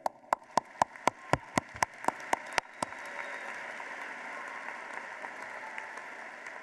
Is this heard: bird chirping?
no